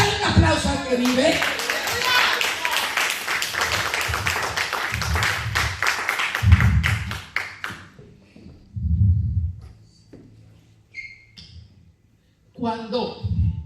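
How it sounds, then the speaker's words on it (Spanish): A church congregation claps loudly in quick, rhythmic bursts for several seconds while voices and low thumps mix in, then the clapping stops, leaving quieter talking and scattered sounds. "Dale un aplauso al que vive."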